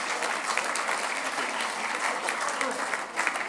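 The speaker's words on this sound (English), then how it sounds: "I'll have a round of applause for Rog." Applause at the HERO ERA awards at the Royal Automobile Club, honouring Rog, a brave man awaiting a hip operation; a full room claps steadily and fairly loudly, with a faint murmur of voices underneath.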